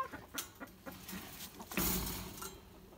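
Chickens inside a chicken coop cluck and squawk close by in short, uneven bursts, with one louder squawk partway through, and no one speaking.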